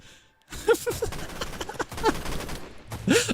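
A barrel explodes in the video game Decaying Winter, setting off a sharp burst followed by a rattling volley of gunfire-like cracks and pops that runs about three seconds, ending in a final loud blast.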